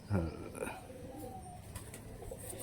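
Madras long-distance flying pigeons coo softly close by, with low murmuring calls under a voice.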